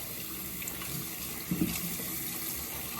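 Water runs steadily from a tap while a Moroccan hammam mitt is rinsed, a soft continuous splashing stream with a brief louder splash midway and no talking.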